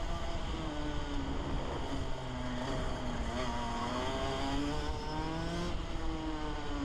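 A DD2 go kart engine drones loudly and continuously, its pitch rising and dropping as gears are shifted, with no talking.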